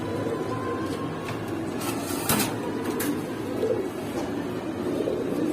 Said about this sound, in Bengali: এদিকে আরেক জোড়া পাঙ্কি ফেটের কবুতর আছে